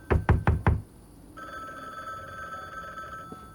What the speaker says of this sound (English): I know there's a new phone call